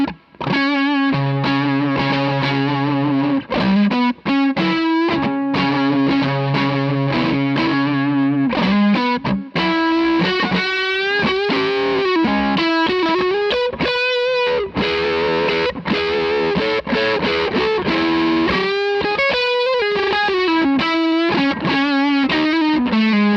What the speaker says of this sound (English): This is the fuzz side first.